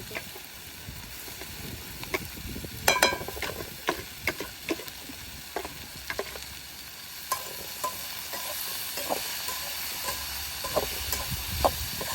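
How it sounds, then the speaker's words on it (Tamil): Washed prawns stirred into a pan of frying onions and banana, giving a steady sizzle under sharp, repeated clinks and scrapes of a spoon against the pan. "நாங்கள் இப்போ இறால் கூனி கழுவிட்டு புளிஞ்செடுத்துருக்குறோம் அதையும் போடுவோம்"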